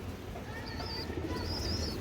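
Pigeons cooing softly in a loft amid other birds, a few faint low coos mixed with brief high chirps over a quiet background rumble.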